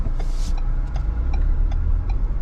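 A modified 2021 Ford Bronco Big Bend pulls away on a street, its engine a steady low drone with road rumble and faint ticking, close and continuous without talk.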